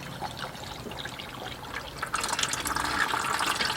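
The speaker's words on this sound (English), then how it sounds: "Pour some of this in and then put fresh oil in it." Liquid glugs and trickles as it is poured into a car engine, a soft gurgling that grows louder and fuller halfway through, close by with no talking.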